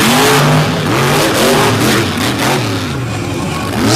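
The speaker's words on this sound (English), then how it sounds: "and we're going with straight line drag racing." Off-road vehicles on BKT tires rev hard in a straight-line drag race on a muddy, rain-soaked track, engines roaring loud and close with pitch climbing and sweeping through gear changes.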